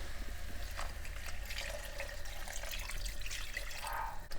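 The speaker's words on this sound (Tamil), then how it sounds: "தேவையான அளவு தண்ணி ஊற்றிக்கலாம்" Water runs steadily for a few seconds as it is poured into a pot of curry, a continuous close splashing pour with a light trickling texture.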